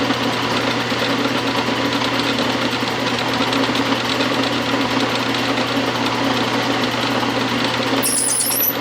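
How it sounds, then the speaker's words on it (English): A 1/4 inch reamer cuts into a rough leaded flywheel casting on a lathe, a steady droning machine hum with a fine, even mechanical chatter throughout and a faint high squeal near the end. "Now I'm reaming with the 1/4 inch reamer."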